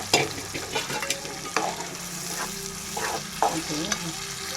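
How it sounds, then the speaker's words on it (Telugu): Onion and blended tomato fry in a pan for egg curry, with repeated spatula scrapes and knocks over a steady close sizzle. "ఇలా కలుపుకుంటూ ఉండాలి"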